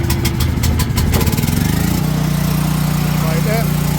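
A small engine with its choke pushed in settles into a steady, loud idle after a rough, sputtering start, its hum holding close and continuous throughout.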